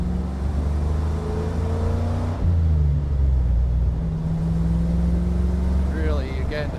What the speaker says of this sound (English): Cadillac 331 sounds awesome.